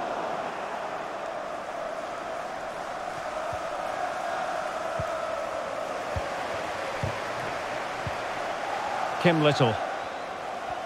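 A stadium crowd murmurs steadily throughout a FIFA 23 women's Champions League semi-final between Arsenal and Wolfsburg, a continuous broad roar beneath the match commentary, with a brief louder swell near the end.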